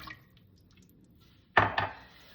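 Half a cup of water poured into a medium saucepan holding granulated sugar, heard as a sudden close splash and gush after a quiet pause, with a second brief surge trailing off.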